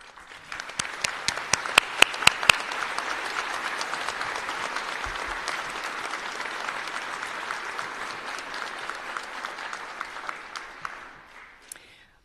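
An induction ceremony audience for a veterinary medicine class applauds for about twelve seconds: sharp individual claps at first, then a full, even wash of clapping that tapers off at the end.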